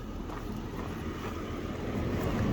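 A Honda Accord engine running and being revved up, a steady low rumble that swells slightly toward the end, with broad wind-like noise over the microphone and no talking.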